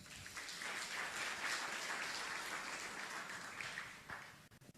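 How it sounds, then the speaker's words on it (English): An audience at a nuclear energy event in Africa applauds steadily for about four seconds, a dense even wash of clapping that thins out and stops near the end. "let's give him a round of applause."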